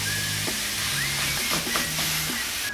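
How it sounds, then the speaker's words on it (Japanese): Ground meat sizzles in a small frying pan with onions and carrots, a steady close crackle and hiss broken by short clinks and scrapes from stirring. "ここにひき肉を入れていきます。"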